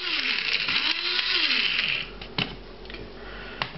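Short burst of a small blender grinding powdered mushroom with breadcrumb, a whirring motor with wavering pitch for about two seconds, then a few faint clicks and knocks as it stops.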